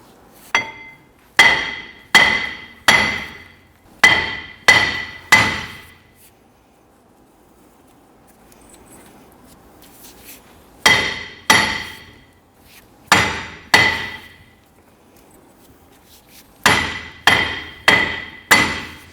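Metal-on-metal hammer blows on a brake rotor of a 2006-2014 Honda Ridgeline ring out in quick bursts of four or five, each strike sharp and clanging, with short quiet gaps between the groups.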